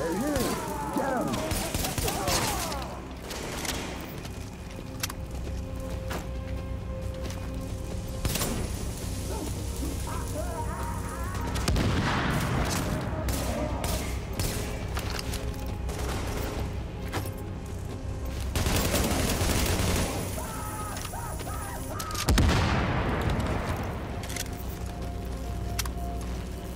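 Gunfire in a firefight in The Division, repeated loud shots and crackling bursts over a steady electronic hum, coming in waves with brief lulls and faint voices.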